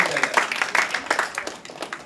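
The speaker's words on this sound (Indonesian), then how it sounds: "Tepuk tangan boleh?" An audience at the opening ceremony of an election-monitoring event breaks into brief, dense applause, many hands clapping close together with a faint voice mixed in.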